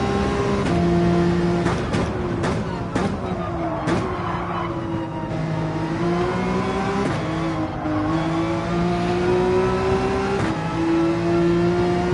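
A race car engine at Deep Forest in a racing game roars on throttle and pulls through the gears, with repeated upshift dips and a few sharp clicks, loud and close, with no talk.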